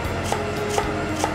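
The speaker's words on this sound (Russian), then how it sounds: "Лук будет нарезаться мелко." A knife finely dicing onion on a restaurant cutting board, giving three evenly spaced chops over a steady hum of kitchen background, with no talk.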